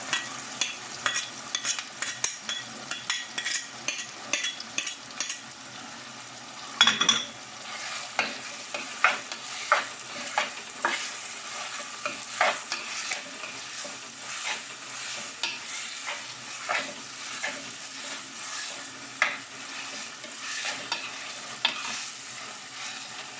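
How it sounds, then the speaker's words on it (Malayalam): A spoon keeps stirring crab roast in coconut milk in a pan, with steady scraping and a soft sizzle that runs throughout. One louder clatter comes early on, and nobody talks. "അപ്പോൾ പുള്ളി ഇങ്ങനെ ഇളക്കി ഇളക്കി ഇളക്കി യോജിപ്പിച്ചുകൊണ്ടിരിക്കുകയാണത്"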